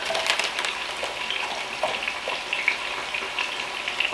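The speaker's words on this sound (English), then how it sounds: "while that's searing on this one side" Beef pot roast sears in a hot pan with a steady, busy sizzle and crackle, close up and continuous, with no talking.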